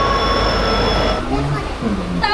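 A train standing at platform 2 of Kharagpur Junction, with a steady loud hum and tonal whine that fade out, followed by low rumbling and a brief high squeal near the end.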